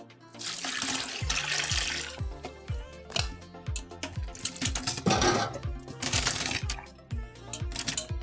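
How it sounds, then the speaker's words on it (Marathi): Lemons are lifted out of boiled hot water into a strainer for lemon pickle, giving repeated wet splashes and drips with light clinks, close by and with no talking. "आता हे लिंबू मी गरम पाण्यात उकळलेल्या पाण्यात घातलेत आता हे चाणीत काढतोय"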